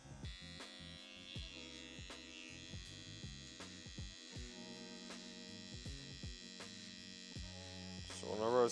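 A hair trimmer sets in the bald line of a mid drop fade, buzzing with a close, steady electric hum that shifts slightly as it moves along the head, with short gaps and faint background sound.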